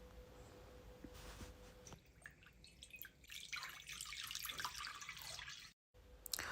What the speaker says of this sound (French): J'ajoute enfin le demi-litre d'eau.